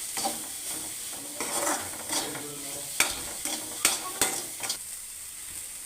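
Spices and salt stirred in a frying pan for chapati noodles, a low sizzle under repeated scraping and clinking strokes of a utensil against the pan, irregular and close.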